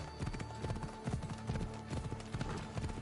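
Horse hooves clip-clop steadily in the video game Assassin's Creed Odyssey on PS5, a quick rhythmic run of hoofbeats at moderate volume with no talking over it.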